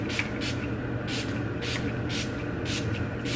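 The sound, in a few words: spraying a makeup spray on the face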